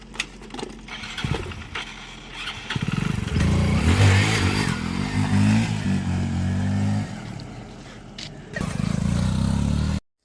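A motorcycle is started and ridden off nearby, its engine revving loudly and steadily for several seconds with scraping and mechanical clatter around it before cutting off abruptly.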